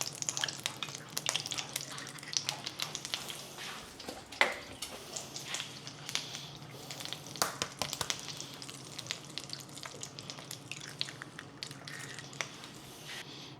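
Three eggs frying in a pan with oil and butter over slightly lowered heat, crackling and spitting steadily up close with scattered sharp pops.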